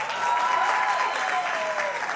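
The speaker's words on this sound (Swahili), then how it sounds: "wapi makofi ya InDrive?" A live studio audience on an evening talk show claps steadily for InDrive, a dense, continuous wash of applause held at an even level throughout with no voices on top.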